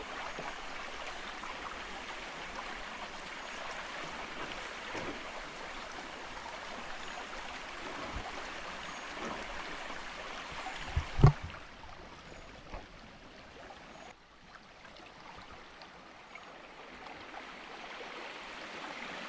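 A small, clear stream runs through a forest beside a village, making a faint, steady trickle and burble throughout, with a brief knock partway through.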